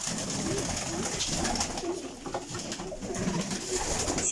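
Pigeons at a breeder's loft in Chełm coo steadily and continuously over a dense, busy background of rustling and low noise, close and fairly loud throughout.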